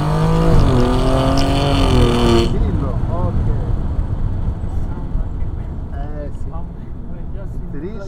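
Alfa Romeo Giulia Quadrifoglio engine at full throttle on the Autodromo del Levante track, a loud sustained roar with rising revs and gear-change dips, an instructor's voice talking over it throughout.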